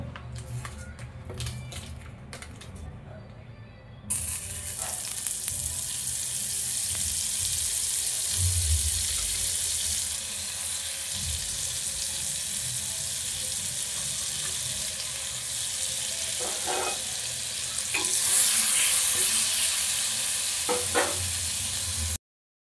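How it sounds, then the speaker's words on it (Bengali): Butter sizzles in a pan for paneer butter masala, a continuous bright frying hiss with occasional stirring clinks, starting after a few seconds of quieter kitchen handling and holding steady to the end. "এবারে প্যানের মধ্যে আরও একটু বাটার দিয়ে দেবো"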